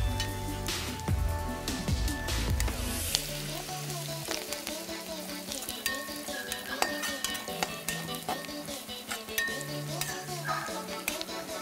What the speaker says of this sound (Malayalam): ഇതൊരു ഗോൾഡൻ ബ്രൗൺ കളർ ആവുന്നവരെ നല്ലോണം ഇളക്കി കൊടുക്കുക.